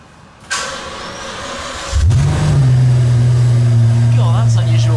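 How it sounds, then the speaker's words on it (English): A Mansory-modified Rolls-Royce Ghost starts up. The engine catches with a loud burst and settles into a deep, steady idle, heard close by. Faint voices sit in the background. "that's unusual for a Rolls Royce. Sort of backfire pops."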